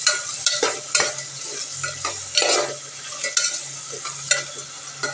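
Onion and green chilies being stirred in a frying pan for chicken curry, with repeated scraping strokes of a spoon over a steady sizzle, close and fairly loud, no talking.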